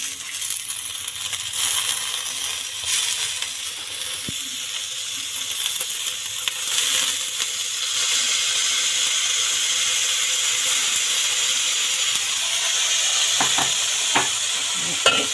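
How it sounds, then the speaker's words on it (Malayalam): Washed moringa leaves tumble into a hot pan for a Kerala-style thoran and get stirred, bringing steady close sizzling and frying with scraping and clinks of the spoon against the pan throughout. "ഈ കഴുകി വെച്ചിരിക്കുന്ന മുരിങ്ങയില നമുക്ക് ഇതിലേക്ക് ഇട്ട് കൊടുക്കാം."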